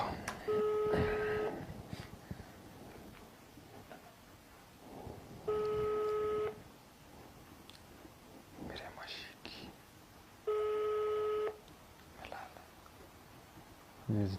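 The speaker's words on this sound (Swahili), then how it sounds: "tupigie Miriam" A phone call rings out through a handset, three evenly spaced steady ringback tones about a second long, with hushed whispering voices in the gaps between them.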